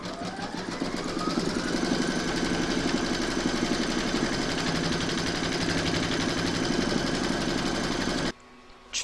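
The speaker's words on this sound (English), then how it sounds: "Pop your hoop into your machine and stitch round number 2 to secure it." An embroidery machine stitches a round on a hooped placemat with a steady, rapid mechanical hum and needle chatter, then stops abruptly near the end.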